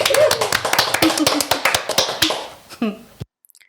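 A small podcast audience at the Newbridge Project in Newcastle gives a brief round of sparse, distinct claps with a cheer mixed in, close and loud, ending abruptly.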